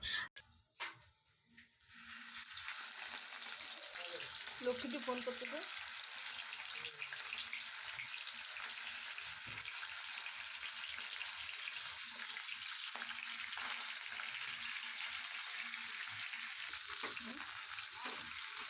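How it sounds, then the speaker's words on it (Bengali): Bhetki fish bones fry in hot oil in a kadai, a steady, dense sizzle that starts after a brief spoken line and then holds loud and even, with occasional stirring underneath. "এখানে মাছের কাটাগুলো খুব ভালোভাবে লাল করে ভেজে নিয়েছি"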